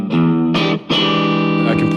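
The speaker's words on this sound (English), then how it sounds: "with the gain knob, I can actually sort of convert this clean channel into another distortion channel, or a lesser distortion channel" Electric guitar through an amp's clean channel with the gain knob turned up into distortion, playing a few loud, sustained, driven notes and chords in close succession with no talking.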